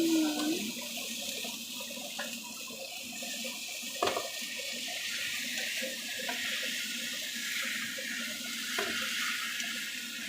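Melon and white onion sautéing in a pan, a steady low sizzle and hiss running evenly throughout with a few faint clinks, no talking.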